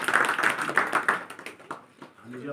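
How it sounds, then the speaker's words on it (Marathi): An audience at a Maratha community gathering in Barshi taluka claps briefly, a dense patter of hands mixed with voices that fades out within a couple of seconds. "म्हणून त्यांच्यासाठी सुद्धा टाळ्या वाजवा सगळे"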